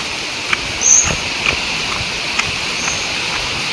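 River water flows steadily in a Konkan village, a soft continuous rush with faint scattered clicks and no talking.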